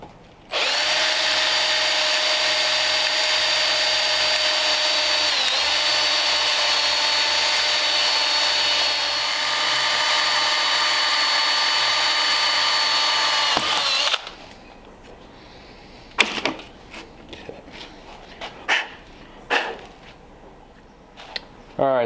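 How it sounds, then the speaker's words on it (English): A power drill bores holes for bolts during work on a 1929 Ford Roadster pickup, a loud, steady whine running for about fourteen seconds, then stopping, followed by scattered clanks and handling noises. "time to drill"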